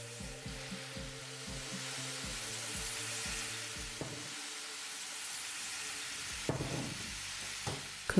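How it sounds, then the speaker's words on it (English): Tofu browning in a pan with soy sauce added, a steady close sizzle and hiss with a low rhythmic mechanical hum underneath and a few sharp clinks near the end. "Now once the tofu has slightly browned, I'm adding some soy sauce to it"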